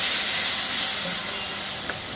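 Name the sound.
chopped tomato frying in a pan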